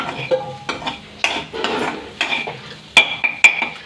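Curry being stirred in a pan right after salt goes in, with irregular scraping and clinking strokes of a spoon against metal over a low sizzle, loud and close, no voices.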